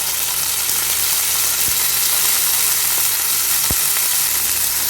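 Fresh tender eggplant sautés in oil in a pan, a loud, steady, dense sizzle close by with a couple of faint knocks from stirring, no talk.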